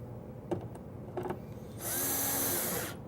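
A power drill drives a screw into a drawer slide inside a cabinet, with two short clicks and taps first, then a steady high whine for about a second, close and fairly quiet.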